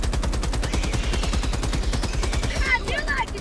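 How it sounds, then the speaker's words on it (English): Rapid automatic gunfire in a video game, a loud, even stream of closely spaced shots running the whole time, with brief voice-like sounds underneath near the end. "That's a gun you can use, Joe."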